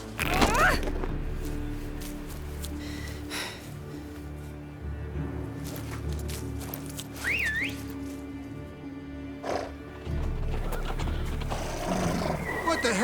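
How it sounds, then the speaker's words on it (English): Horses whinny and snort in The Witcher 3: Wild Hunt, a high neigh rising near the start and another mid-scene, over a low game ambience and music bed. "Ready our horses!"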